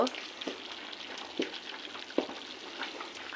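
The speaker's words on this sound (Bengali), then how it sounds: "দিনে দিয়ে দিয়ে এই ভাজা মাংসটা রেডি করব" Qurbani meat frying in a pan hisses with a steady, close sizzle, broken by a few sharper stirring scrapes and pops.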